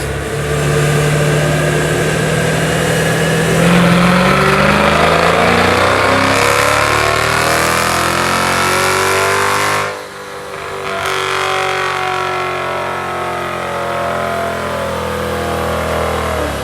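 A loud car engine revs hard on a dyno and steadily climbs in pitch, briefly drops off, then roars on at high revs, close and continuous.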